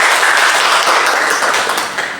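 Audience applause at an Indonesian school guidance-counselling sharing session, a dense, steady wash of clapping across the whole moment that eases slightly toward the end, with no speech over it.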